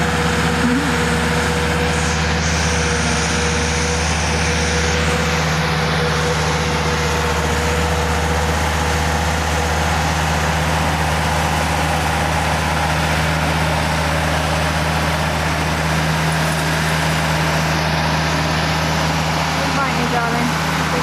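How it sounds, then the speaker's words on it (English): Tractor engine running steadily while topping a field, a loud continuous low droning hum with a constant tone throughout, with occasional voices heard over it. "We love our tractor."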